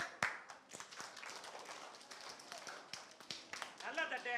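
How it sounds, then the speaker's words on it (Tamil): An audience claps hands at a summer celebration of stories and songs, with scattered, irregular claps throughout and a voice speaking over them. "கை தட்டுங்க"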